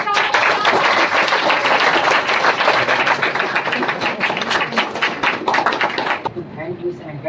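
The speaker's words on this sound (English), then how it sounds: "Welcome, Director Sir, with a big round of applause." A crowd at a farewell event gives the director a big round of applause, with dense, loud clapping that lasts about six seconds before dying away, while a voice speaks over it.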